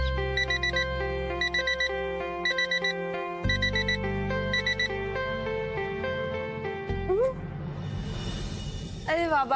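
An alarm clock rings in the morning with a repeating electronic melody of bright beeping notes over a steady low accompaniment, followed by a rising swoosh and rustling toward the end.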